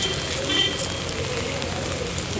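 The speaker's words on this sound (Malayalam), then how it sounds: "നല്ല മഴയാണ് മക്കളെ." Heavy rain falling outdoors, a steady dense hiss and patter that fills the scene without pause.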